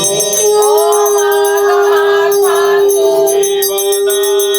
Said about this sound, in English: So we will ring the bell and blow the conch.